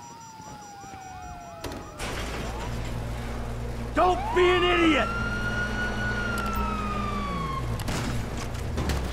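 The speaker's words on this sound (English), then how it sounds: "you hear that? Sirens!" Police sirens wailing in the GTA 5 video game, a rising and falling electronic siren close by, with game noise and someone shouting over it.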